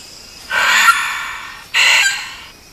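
A Vogelkop bowerbird mimics a modest tiger parrot call, giving two loud, harsh, drawn-out calls, each lasting under a second, with a short gap between them and no other sound present.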